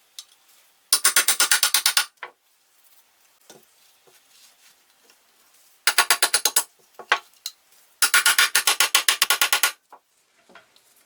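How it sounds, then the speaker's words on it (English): Bolts are pushed into wooden rails of a tropical wood garden tabletop, giving loud bursts of rapid ratcheting clicks, three separate runs with quiet pauses and faint handling noises between them. "First, I insert the bolts into the rails."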